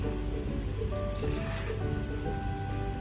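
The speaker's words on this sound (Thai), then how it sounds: "เรียบแล้วนะคะทุกคนก็ใช้สเปรย์ล็อก" Hairspray hisses from an aerosol can onto finished, slicked-back hair in one strong, close burst of about a second, set against low room sound.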